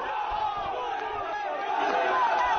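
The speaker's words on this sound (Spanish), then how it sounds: "Ahí está el grito, por supuesto, del cuadro de Lautaro que se va con aplausos del recinto." Football crowd at a Chilean third-division match between Lautaro de Buin and Deportes Rengo, chanting and shouting together in a sustained roar from across the stadium, with cheering swelling toward the end.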